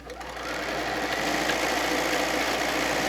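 Sewing machine stitching quilt fabric, a steady, fast mechanical whir that ramps up at the start and then runs evenly and close.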